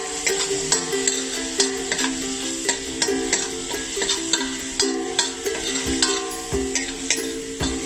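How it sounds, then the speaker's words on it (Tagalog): Garlic sautéing in preheated olive oil for herbed mussels, a steady sizzle broken by repeated clinks and scrapes of a utensil stirring the pan, close and continuous with no talk. "And then, saute our garlic."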